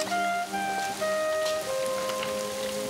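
Steady rain falls outdoors as a continuous soft hiss of drops, with sustained tonal sounds running underneath and no voices.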